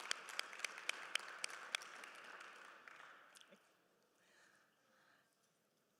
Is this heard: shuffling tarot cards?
no